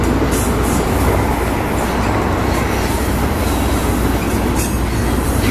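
Freight train hauled by Union Pacific and CSX locomotives rolling past close by, a loud continuous rumble of wagons with rail noise and occasional squeal, no voices.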